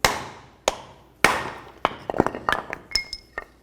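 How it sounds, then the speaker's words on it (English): Sharp metallic hammer strikes on a punch while removing a steering part from a 1999-2007 Chevy Silverado: a few spaced blows, then a quicker run of lighter taps with ringing clinks, close and loud. "Come right in here with your punch and a hammer."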